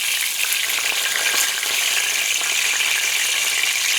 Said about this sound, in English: put them together and fry them